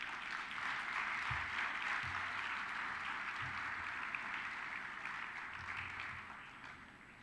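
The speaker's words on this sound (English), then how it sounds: "another round of big applause" Festival audience applauding at the Military Literature Festival at Sukhna Lake, Chandigarh: a steady, dense wash of clapping from a large outdoor crowd that continues throughout, slowly fading toward the end.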